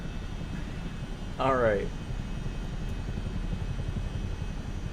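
Chinook helicopter engine in Microsoft Flight Simulator 2024 on PS5 Pro, a low steady rotor and turbine drone running throughout under a man's brief spoken word.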